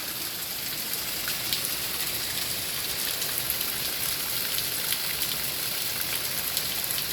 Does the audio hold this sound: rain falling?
yes